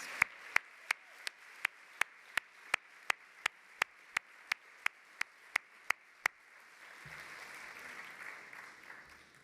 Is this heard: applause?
yes